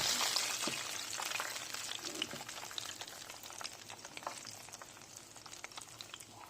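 Pieces of chicken frying in hot oil for KFC-style crispy fried chicken, giving a steady bubbling sizzle with occasional crackles and pops throughout, close and moderately loud.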